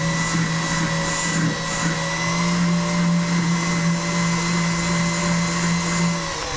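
A rotary power tool spins a silicone polishing wheel against jewelry, holding a steady, close, high-pitched motor whine that wavers slightly as the wheel presses into the piece, with no speech.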